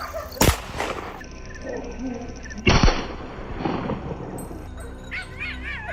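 Hunting dogs bark in the brush on a mountainside where wild boar hide, two sharp loud bursts separated by a few seconds with quieter yips and whimpers and rustling between.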